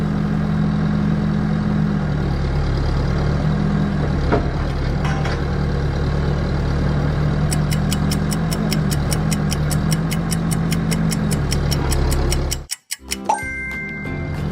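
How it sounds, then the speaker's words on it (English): A heavy excavator engine idles and rumbles steadily at close range with a low droning hum, joined partway through by rapid mechanical ticking before a brief dropout and some clanking near the end. "It's an excavator."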